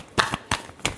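Tarot cards shuffled by hand in three quick riffling bursts, each a short crisp flutter of card edges, close and alone without talk.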